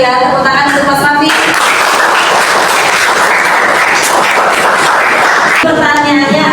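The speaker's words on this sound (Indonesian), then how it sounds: "tepuk tangan untuk Mas Rafi." Audience applause breaks out at a religious study session in Indonesia, a dense wash of many clapping hands lasting several seconds, with speech just before and after.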